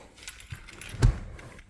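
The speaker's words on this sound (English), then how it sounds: "So first you're going to need your keys." Car keys jangle briefly and softly at close range, a few light metallic chinks with one stronger rattle in the middle, as a Ford Falcon owner gets ready to open the door.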